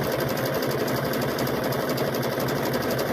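A sewing machine stitches through rope with a fast, steady mechanical whir and rapid needle rattle, running continuously up close with no talking.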